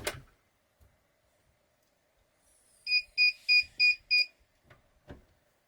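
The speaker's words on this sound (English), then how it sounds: "I'm going to go ahead and watch my timer and lift it up after 8 seconds." A heat press timer sounds five sharp, evenly spaced electronic beeps at close range, with a few soft clicks and thumps before and after.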